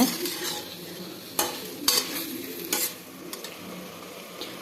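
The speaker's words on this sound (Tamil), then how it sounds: "மிளகாத்தூள் கால் ஸ்பூன் மஞ்சத்தூள் ஸ்பூன் பிரியாணி மசாலா போட்டு நல்லா வதக்கிக்கிடுங்க" Fenugreek greens sautéing in a pan with chili powder, turmeric and biryani masala, steady sizzling broken by a few louder scraping stirs of a spoon against the pan.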